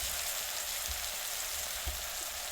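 Crushed chili crackles steadily in hot oil in a pan of Gujarati valor bean and brinjal curry, giving a continuous, fairly loud sizzle with a few faint pops and no talk.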